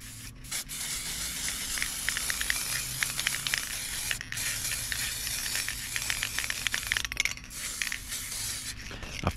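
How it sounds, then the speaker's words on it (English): A spray paint can hisses in a run of short bursts, separated by brief pauses and faint clicks, spraying candy apple red onto a nitro RC buggy body close by, at moderate volume. "Let's see if I can spray a little bit to seal it in there."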